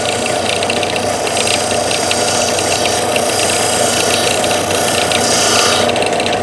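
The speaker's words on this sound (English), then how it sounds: "This grinder doesn't have the same power as the ones we used to use in school" A low-powered angle grinder slowly grinding metal down to a marked line, making a loud, continuous mechanical whir and rattle that holds steady throughout, with no talking.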